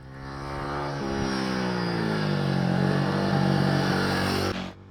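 Royal Enfield Guerrilla 450 motorcycle riding off, its engine revving up through a gear change with rising pitch, loud and close, ending abruptly.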